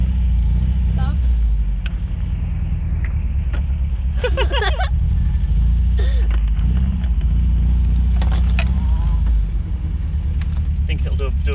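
An MGB sports car engine, started for the first time in over ten years, runs loudly at close range with a steady low rumble and occasional revs. People talk over it throughout.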